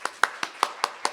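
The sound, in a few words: audience clapping for a symposium presenter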